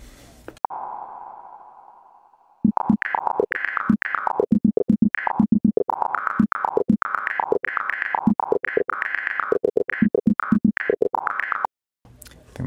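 A ChucK LiSa sampler feeds a stereo pair of 30 and 40 millisecond delays, producing a dense, fast run of choppy sampled notes at shifting pitches with a slight stereo smear, after a brief held tone and a gap.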